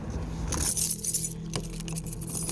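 A set of keys jangles in a room, a few light metallic clinks and rattles against faint background hum, with no talking.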